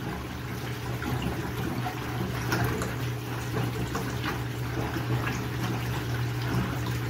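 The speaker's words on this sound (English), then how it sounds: "That water's still going out." Water draining steadily out of a GE HE high-efficiency top-load washing machine, a continuous rushing flow with a low pump hum underneath, even and unbroken throughout.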